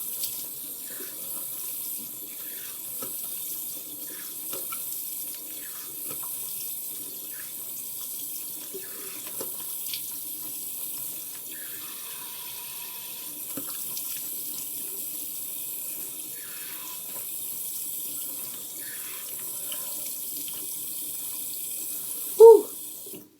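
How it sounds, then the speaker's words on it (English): A bathroom tap runs cold water into a sink for face rinsing, a steady faint hiss of flowing water with small splashes and one brief louder splash near the end. "And then my rinse, I do it with cold water."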